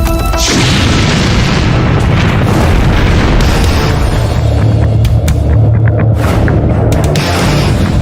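Powerful explosions at a fire boom and rumble continuously, a loud, heavy barrage of deep blasts with sharp cracks scattered through it.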